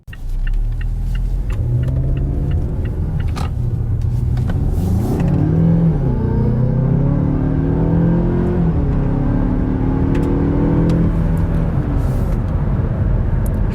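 A Mazda6 car on the move, its engine droning steadily throughout with pitch rising and falling as it accelerates and shifts, close and fairly loud over a constant road rumble, with no talking.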